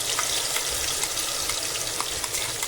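A masala paste of onion, ginger and garlic fries in oil with a steady, close sizzle. Light crackles and stirring sounds run evenly throughout, and no one speaks.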